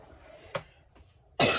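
A single sharp cough bursts out near the end, loud and close, after a brief throat-clearing sound earlier in a quiet room.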